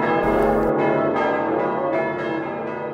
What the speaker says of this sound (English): you are still likely to hear one of its 13 bells